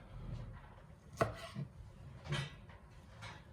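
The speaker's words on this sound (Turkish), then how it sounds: "Evet etlerimizi doğramaya devam ediyorum." A knife chops through meat for şiveydiz stew on a board, a few dull irregular thuds spread across a quiet kitchen background.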